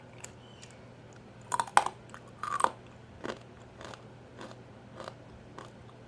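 Crispy baked beetroot chips crunched between the teeth. Two sharp, loud bite crackles come first, then a series of softer, evenly spaced chewing crunches in a quiet room with no talk.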